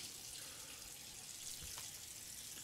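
Tap water runs steadily into a sink while a razor is rinsed off, a soft, even hiss that stays faint and constant throughout with no talking.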